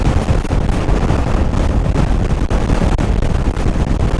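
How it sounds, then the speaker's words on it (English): Strong wind roars and buffets against the microphone continuously on a moving motorcycle west of Winnipeg, a loud rumbling rush with no voices. "the wind is just howling across here"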